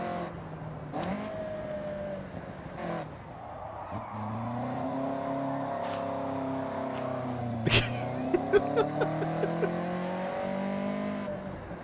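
A Toyota AE86 in the video game Forza Horizon strains for power, its engine note rising and falling through gear changes in one continuous drone. A burst of sharp clattering noises comes near the end. No one speaks.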